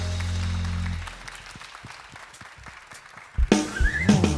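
Congregation at a Korean church Sunday worship service clapping together in a steady, spaced beat after a sustained low tone fades. Loud music and singing then burst in over the clapping.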